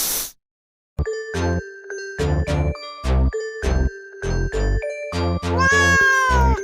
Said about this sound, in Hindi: ये क्यूट सी मानो बिल्ली भी वहाँ पर घूम रही थी